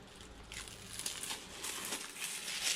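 Backing sheet peeled off foil stickers made with a Cricut and Xyron, a quiet crinkling, papery rustle that builds in bursts over a few seconds, close and faint, no speech.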